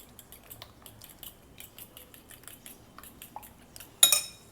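Cutlery clinks and taps in a bowl as chopped onions and green chilies are stirred into beaten egg, a quick run of light close strikes ending in one louder clatter.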